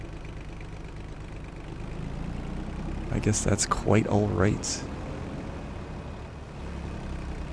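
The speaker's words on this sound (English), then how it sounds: "Alright, we'll shut the tractor off." A tractor engine idles steadily in Farming Simulator 25, a continuous mid-pitched drone throughout, while someone talks briefly over it in the middle.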